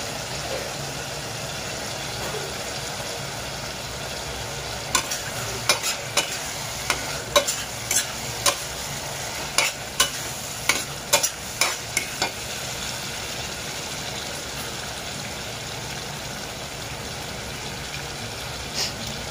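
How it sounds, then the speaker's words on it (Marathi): Goat brain frying with masala and fresh coriander in a pan, a steady close sizzle broken by a run of sharp scraping stirs in the middle, with no talking. "आणि आता आपण टाकूया भेजा."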